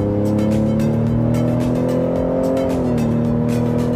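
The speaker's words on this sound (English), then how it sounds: "I am just literally getting out onto the road with the Raptor now" 2019 Ford Raptor pickup pulling out onto a road, a steady loud engine drone that holds, then shifts pitch downward near the end, heard close inside with no talk.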